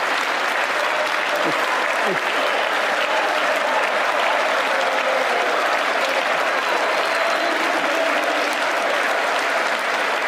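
Democrats in the chamber during the State of the Union applaud in a sustained, dense wash of clapping from a large crowd, steady and loud for about ten seconds, with faint voices mixed in.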